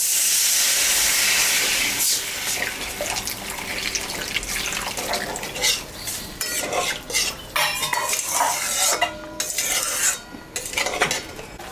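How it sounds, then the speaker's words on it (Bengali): Water hits hot fried spice paste in a pan for a fish curry, bursting into a loud steamy hiss that fades into bubbling while a metal spoon clinks and scrapes against the pot. "মশলাটা কষানো হয়ে গেছে, আমি এখন সামান্য একটু জল দেব।"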